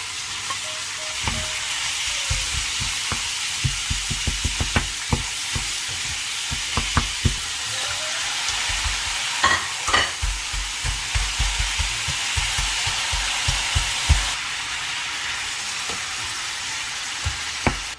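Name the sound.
onions, minced steak and vegetables frying in a pan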